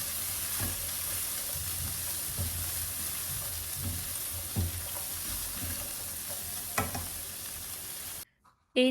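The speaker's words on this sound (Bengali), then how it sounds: "এই তো আমার ভেজিটেবল ভাজাটা হয়ে গেছে" Vegetables frying in a pan for noodles give a steady sizzle with a few knocks of stirring, running alone for about eight seconds before cutting out.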